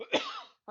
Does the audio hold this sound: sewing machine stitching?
no